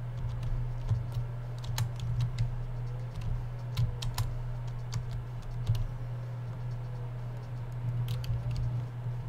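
Computer keyboard keys pressed to steer a drift racing game, irregular clicks and short bursts of taps over a steady low hum.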